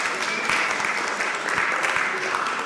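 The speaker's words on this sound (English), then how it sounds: "you should all give give yourself an applause" Room full of people at a resource connections panel applauding themselves, a dense, even patter of many hands clapping throughout, moderately loud.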